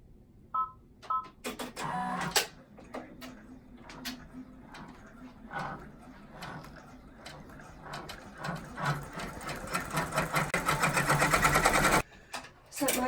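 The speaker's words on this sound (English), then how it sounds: "So I'm going to stitch this text in place" An embroidery machine stitches text onto a zippered credit card bag, its needle running in a fast, steady mechanical chatter that speeds into a dense rhythmic whir before a brief stop near the end.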